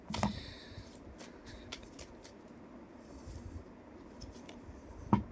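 A deck of tarot cards is shuffled with cards springing loose, making quick papery riffles at the start and end and soft scattered flicks and taps in between, close and fairly quiet.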